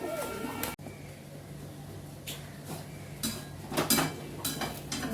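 A flock of pigeons coos and flutters nearby, with soft repeated calls and a few louder bursts, alongside a sharp clatter and faint talk in the background.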